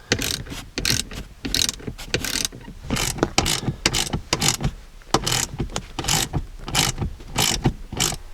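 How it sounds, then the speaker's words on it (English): A hand ratchet tightens the seat bolts in a 2006–2009 Ram truck, giving dense bursts of rapid clicking in quick, irregular strokes, close and fairly loud, with no talk. "you can get a ratchet in here and tighten these down"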